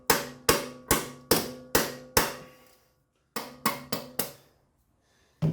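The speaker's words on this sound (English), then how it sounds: "Rubber mallet. You want it to be all the way in." A rubber mallet knocks a ratchet onto a bolt on a 2004 Honda CR-V, a run of six sharp, evenly spaced blows, a pause, then four more quick strikes and a last one, each ringing briefly with no talk.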